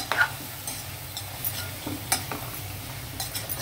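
Beans, carrot, green chili, mint and coriander stirred together in a frying pan for pulao, with a steady sizzle broken by sharp scraping clicks of the spoon against the pan, close and without talk.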